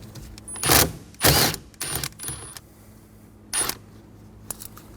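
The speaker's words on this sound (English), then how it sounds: "Using a 19mm socket, remove the nut for the steering wheel." A 19 mm socket on a ratchet loosening the steering wheel nut of a 2005-2015 Toyota Tacoma, heard as a few short, close ratcheting bursts separated by quiet pauses.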